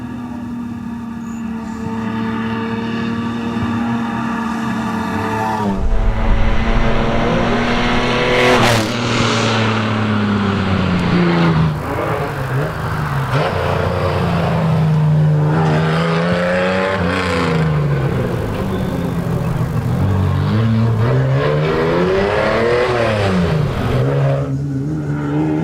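A Holden Torana race car climbs a hillclimb course, its engine loud and close, rising and falling through repeated gear changes and revs for a long stretch, with no talk over it.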